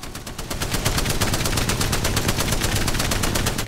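Spitfire light machine gun from Apex Legends firing in a long continuous burst, a fast even stream of loud, close rounds with no pauses and no voices.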